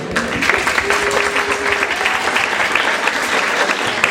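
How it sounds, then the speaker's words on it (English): Audience applause at a community tax cuts forum, a steady dense roar of many clapping hands sustained throughout, with a faint voice briefly underneath. "so yes, many rounds of applauses for her"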